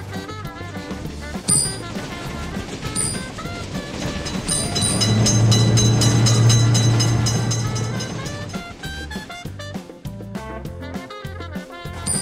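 A train rolls past a railroad motor vehicle crossing, wheels clacking rhythmically as the rumble swells to a peak mid-way and then fades, with tonal horn-like notes sounding near the start and end.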